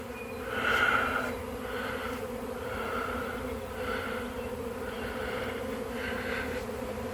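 A big honey bee swarm buzzes continuously outdoors, a dense steady hum with individual bees droning louder as they pass near.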